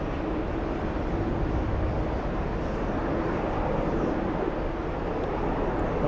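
A small Cape Air propeller plane flies overhead, giving a steady, even drone that holds at a constant level throughout with no talk.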